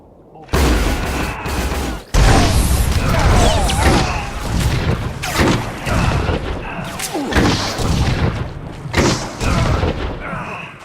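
A bomb detonates in the Star Wars: The Old Republic video game, a loud, heavy boom followed by sustained crashing, rumbling blasts and gunfire-like bursts that stay dense and powerful throughout, mixed with game voices.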